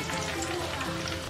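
Crushed garlic frying in hot oil while making spicy karaboondi, a continuous close sizzle and crackle with no break.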